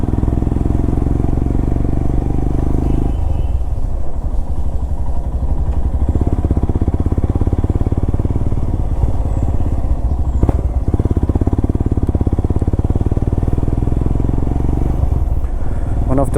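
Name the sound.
motorcycle riding on a forest road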